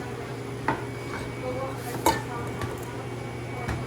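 A spoon stirs a farro and white bean dish in a pot, with a few sparse metallic clinks against the pan over a soft, steady kitchen background.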